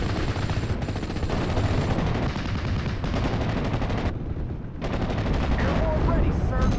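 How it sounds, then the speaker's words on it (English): Troops open fire in the World War II strategy game Steel Division Normandy 44, a dense, continuous rattle of rifle and machine-gun fire with booming artillery that carries loud and unbroken throughout. "some of my troops are close enough to open fire now"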